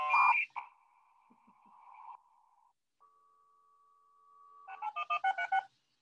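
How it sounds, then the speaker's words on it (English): A dial-up modem connects to the internet: an opening burst of dialing tones, then a steady held tone, a short pause, a second pure tone, and finally a rapid run of pulsing, chirping handshake bursts, with no talking. "Back before Wi-Fi, we would have to connect our computers to the internet and it would make this sound"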